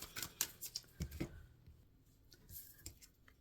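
Close, quiet riffling of a tarot deck being shuffled, a quick burst of papery flicks and taps in the first second and a half, then softer scattered card sounds.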